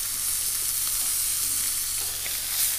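A steak frying in a hot pan gives a constant, dense, bright sizzle that holds steady and close throughout, with no voices.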